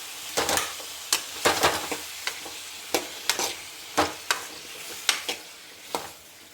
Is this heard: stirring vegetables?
yes